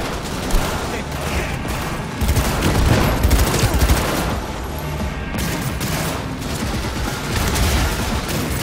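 Heavy, sustained gunfire in Cyberpunk 2077, dense overlapping bursts and booming shots pounding loudly and close for several seconds with little letup.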